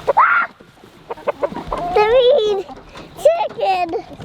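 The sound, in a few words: chicken clucking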